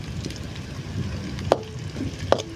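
Green chillies crackle softly in hot oil for village-style pepper chicken gravy, a quiet fry with two sharp clicks of a spoon stirring against the pan.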